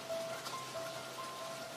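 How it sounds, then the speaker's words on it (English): Steady rain patters softly on a surface, a faint, even hiss with no voices. "But then all of a sudden it began to rain"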